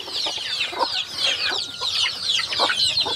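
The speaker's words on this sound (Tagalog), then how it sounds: "Yan ang mga native chicken natin." Native Tagalog chickens cluck busily while pecking at melon, a near, steady stream of overlapping short clucks and soft calls with no talking.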